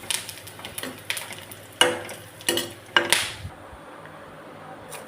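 Gundruk, fermented leafy greens, frying in oil in a wok, with a steady hiss and several sharp scraping stirs of a utensil against the pan, close and fairly loud, fading near the end.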